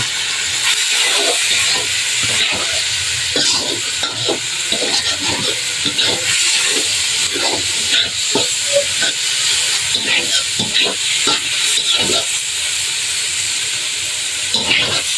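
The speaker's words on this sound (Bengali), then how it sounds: "একটু হলুদের গুঁড়ো দিয়ে দেব, যাতে নুডলসটা একটু রং ধরে। এখন আমরা নাড়াচাড়া করব।" Noodles with a pinch of turmeric powder fry loudly in a pan, a dense steady hiss broken by repeated rhythmic scraping strokes as they are stirred, close and continuous.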